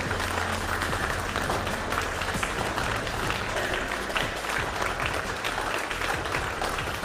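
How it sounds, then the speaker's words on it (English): Continuous applause and cheering from a mission control team celebrating a confirmed payload deployment in the SFS spaceflight game, dense and steady throughout without a break. "You heard it there from Mission Control and from the applause from our team."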